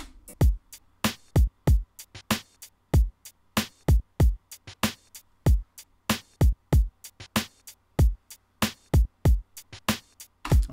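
A looping drum beat plays alone, deep kicks and sharp snare hits in a steady, repeating pattern, crisp and fairly loud.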